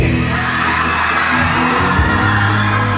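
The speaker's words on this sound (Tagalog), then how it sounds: "sumigaw ang mga singers" Singers packed into the crowd at a youth camp opening night shout together on cue, a loud, dense wall of voices holding steady for a few seconds with some whoops rising above it.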